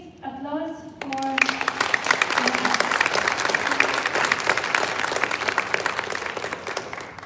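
Clapping from the audience at a livestreamed talk on reporting justice rises sharply after a brief moment of speech and continues as steady, fairly loud applause with distinct individual claps.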